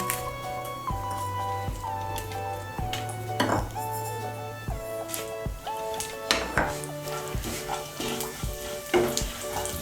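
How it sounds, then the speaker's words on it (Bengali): Bay leaf, dried chili and whole cumin seeds sizzle in hot oil in a pan, with a soft frying hiss and a few utensil clanks, partly masked by steady background music throughout. "এর মধ্যে আমি একটা তেজপাতা, একটা শুকনো লঙ্কা আর 1 ছোট চামচ গোটা জিরে ফোড়ন দিচ্ছি।"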